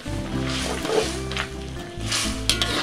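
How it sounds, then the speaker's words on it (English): Pork kidney stir-fries with ginger in sesame oil. A moderate, continuous sizzle with light stirring runs under soft background music. "I'm going to stir it."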